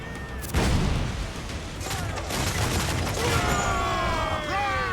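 Ship cannons boom in Assassin's Creed Black Flag, a heavy volley breaking out near the start and rumbling on amid further blasts, with shouted voices and game sounds layered over the continuous din.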